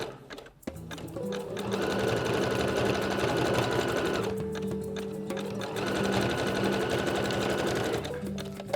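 A sewing machine zigzag-stitches elastic onto a bra in a steady, close, continuous run, with a brief slowdown partway through before it resumes.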